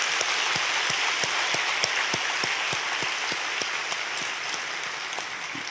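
Congregation applauding together at a special year-end dawn prayer service in church, a broad, sustained round of clapping that stays even and fairly loud throughout.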